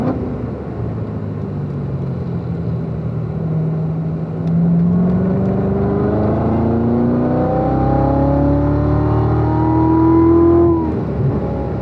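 A race car accelerates out of a turn on a track, its loud, close engine note climbing steadily in pitch through the gears, with no voices.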